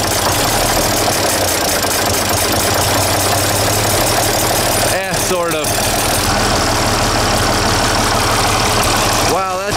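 An old diesel tractor engine idles steadily and loudly up close, with a continuous low rumble throughout; a person speaks briefly over it partway through.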